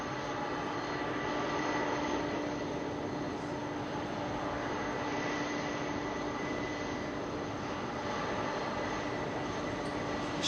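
Heavy jet airliners, including an Airbus A380, roar on departure from Heathrow airport, a loud sustained engine rumble and whine holding steady throughout with no talk.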